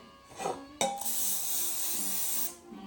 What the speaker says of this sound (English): We're going to spray it with some original flavor cooking spray